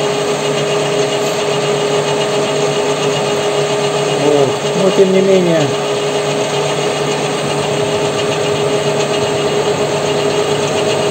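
A lathe cuts splines on an axle shaft, its motor running with a steady mechanical hum and tonal whine, while someone briefly talks over it.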